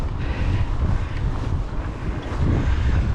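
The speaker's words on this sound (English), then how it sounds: "it is windy. I've got a horrible headwind going down here" Strong headwind buffets the microphone while cycling, a steady low roar gusting louder toward the end, with no voices.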